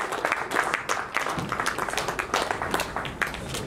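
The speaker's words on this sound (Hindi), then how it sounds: "सभी की तालियों की गड़गड़ाहट होती रहे" An audience at a ceremony honouring Ayurvedic practitioners applauds, a dense, fairly even patter of many hands clapping throughout.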